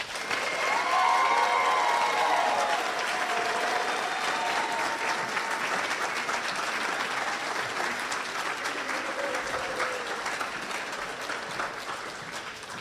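Sustained audience applause for practical nursing graduates at a fall 2022 nursing pinning ceremony, a steady wash of many clapping hands that slowly tapers, with no talk over it.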